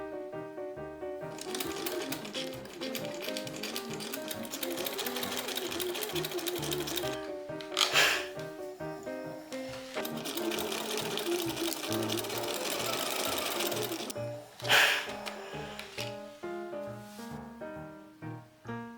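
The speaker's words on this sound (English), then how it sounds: "I started off by gathering the upper edge of the back before sewing the back yoke on." A sewing machine stitches the gathered back yoke of an Edwardian Gibson Girl blouse. It runs in steady, fast rhythmic bursts, close and clear, with brief pauses and small mechanical clunks between runs.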